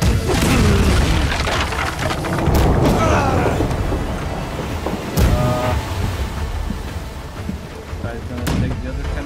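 Ship cannons in the naval game Blackwake fire repeatedly, deep booms rolling over constant battle noise and heavy rumble, with players shouting underneath.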